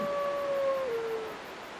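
Sif, the great wolf in Dark Souls, lets out a long sustained howl, steady and then sliding slightly lower before trailing off, fairly loud over a game background wash.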